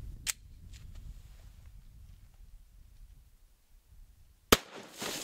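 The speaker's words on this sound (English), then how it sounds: "shooting Underwood Extreme Penetrator 10mm" Underwood Extreme Penetrator 10mm rounds fired into water jugs, with a faint early crack and then a single loud, sharp gunshot near the end followed by a brief splashing rumble over a quiet background.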